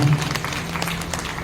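An audience at a Bhagwat Katha gathering claps together in a brief, dense burst of applause, moderately loud and steady with a low hum beneath.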